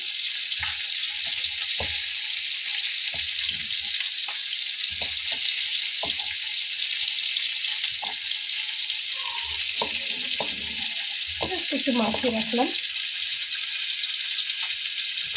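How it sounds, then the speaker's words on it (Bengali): Fish lightly frying in a pan gives a steady, bright sizzle throughout, with a few soft knocks and a voice speaking briefly near the end. "আমার মাছটা কিন্তু ভাজা হয়ে গেছে যেহেতু এটাকে আমি হালকা করে ভেজে নিতে চেয়েছি"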